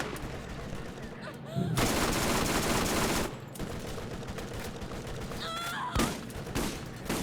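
A shielded turret fires on the player in the video game Borderlands, rapid bursts of gunshots in loud rattling volleys with short gaps between them.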